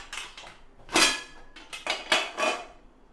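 A metal idli steamer pot is set down for cooking pumpkin ada, giving several sharp clanks and rattles of metal cookware in quick, uneven succession, close by.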